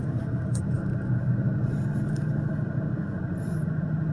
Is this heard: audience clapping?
no